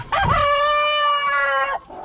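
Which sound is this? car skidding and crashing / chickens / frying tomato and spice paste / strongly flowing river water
chickens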